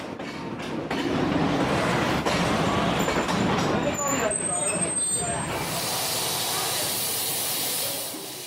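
Loud, continuous rumble and hiss of a train from Mandalay moving slowly into Pyin Oo Lwin station in Myanmar, with faint rail clatter and a brighter steam-like hiss near the end as it fades.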